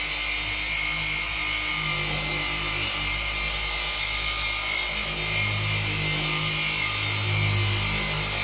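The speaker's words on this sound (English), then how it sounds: "I'm going to work quite fast because this machine is prone to stalling, so I'm cranking up the machine speed." A machine polisher whirs steadily and loudly at high speed, spreading Meguiar's Pro Hybrid Ceramic SiO2 M27 sealant across a car bonnet, with a constant droning hum and no talk.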